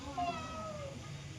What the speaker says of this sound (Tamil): இங்கே இருக்குது சின்ன பூனை, இங்கே இருக்குது பெரிய பூனை